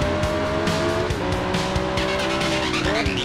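In the motorcycle racing game RIDE on PS4, a bike engine whines loudly while the brakes bite and tires squeal and skid, the engine pitch dropping and shifting throughout.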